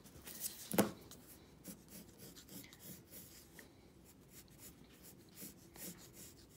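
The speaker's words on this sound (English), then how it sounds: "That circle looks a little rough. I'm going to erase it." A pencil eraser rubs over a line drawing on paper in soft, continuous scratchy strokes, with one louder scrape near the start. The sound is close but faint, and no one talks.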